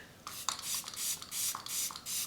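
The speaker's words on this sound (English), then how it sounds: "a setting spray, Makeup by Mario, of course, a setting spray from him" Makeup by Mario setting spray misted in about four quick, fine pumps, each a short airy hiss close to the microphone, with no talking.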